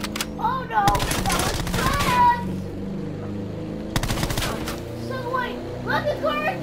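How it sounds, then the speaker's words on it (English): Gunfire in Call of Duty Black Ops Blackout, several loud bursts of rapid automatic shots in clusters with pauses between, mixed with game sounds and excited voices talking over the action. "I'll shoot this car!"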